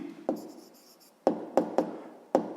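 A pen or pencil writes answers to a sixth-grade maths exercise, with a faint scratch followed by several sharp taps and knocks as it strikes the desk, close and quiet.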